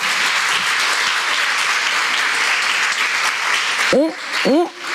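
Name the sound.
church congregation applauding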